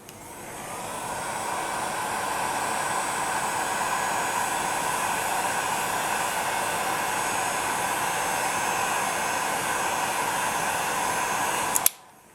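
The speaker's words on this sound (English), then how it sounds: "I'll heat gun it now, just to show you how it dulls in the oven." Heat gun blowing hot air on a polymer clay pendant, a steady close whooshing roar that runs unbroken for about twelve seconds before cutting off abruptly with a small click.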